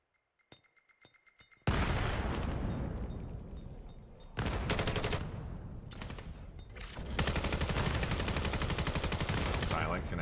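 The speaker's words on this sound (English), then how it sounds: "Silent connects with a nice nade." In the VR shooter VAIL, a few light clicks give way to a sudden loud grenade blast, followed by sustained heavy gunfire with repeated rapid bursts and a commentator talking over it.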